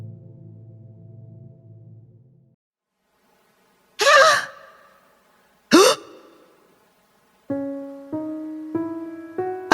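A woman's sharp gasp, voiced twice as two loud bursts of breath a couple of seconds apart, set among melodic music tones.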